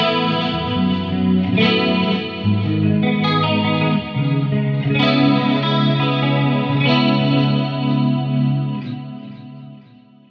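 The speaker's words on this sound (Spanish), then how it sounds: "este efecto de chorus, si clásico de los 80 y los 90" Electric guitar played clean through a lush seven-voice chorus effect on an Axe-Fx III, shimmering, wavering chords ringing out steadily and fading toward the end.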